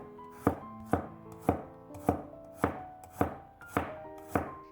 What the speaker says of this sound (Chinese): 再改刀切成蒜末